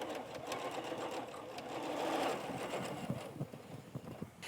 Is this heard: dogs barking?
no